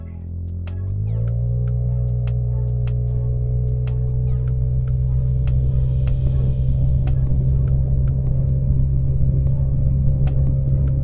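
Motorcycle engine running steadily on the road during a ride, a continuous close, loud low rumble and throbbing hum that holds level throughout without talk.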